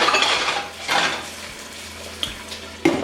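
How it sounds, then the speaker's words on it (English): A metal lid set onto a cooking pot on a stove at medium heat while a bacon cheeseburger cooks, giving a few clanking knocks and clatters over a soft sizzle. "And then cover the pot."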